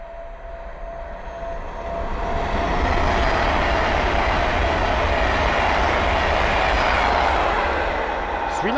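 An Avanti West Coast Class 390 Pendolino passes at speed on the West Coast Main Line at Linslade, a loud sustained rushing roar that swells after two seconds and holds steady, with a faint hint of talk.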